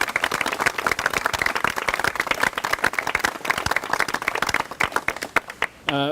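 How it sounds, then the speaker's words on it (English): An audience at a Simsbury gathering about the lower Farmington River applauds a study committee, dense and steady clapping from many hands filling the room for several seconds before it breaks off abruptly. "I want everybody to give the study committee a big round of applause"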